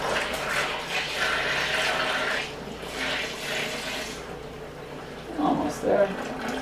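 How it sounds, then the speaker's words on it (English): Wort for home-brewed beer pours steadily into a fermenting bucket, a continuous splashing rush of liquid with louder gurgles near the end, while people talk over it. "You're just pouring the wort."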